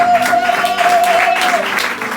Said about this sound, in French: Oh, on acclame pour Jésus.